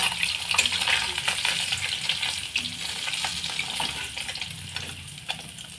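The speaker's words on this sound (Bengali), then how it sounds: "দেখুন, এইভাবে আমি মাছটাকে ভেজে তুলে নিয়েছি" Parshe fish frying lightly in oil for a cabbage curry, a steady close crackling sizzle with brief stirring and spatula clicks, no talking.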